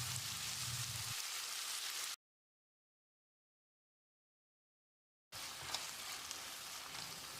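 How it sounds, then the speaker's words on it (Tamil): Tomatoes sautéed with salt in a pan while making sambar give off a steady close sizzle and frying hiss. The sound cuts out for a few seconds in the middle, then resumes. "1 டீஸ்பூன் உப்பையும் சேர்த்து தக்காளியை நல்லா மசிகிற அளவுக்கு வதக்கிடலாம்"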